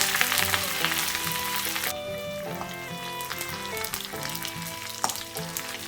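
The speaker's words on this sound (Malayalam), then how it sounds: "അടുത്ത ഇതിലേക്ക് നമുക്ക് അരിഞ്ഞു വെച്ചിരിക്കുന്ന ഉള്ളിയും മുളകും കറിവേപ്പിലും ഇട്ട് കൊടുക്കാം" Chopped onion, green chili and curry leaves hit hot oil that already holds mustard seeds, setting off a loud, dense crackling sizzle that stays steady and close throughout.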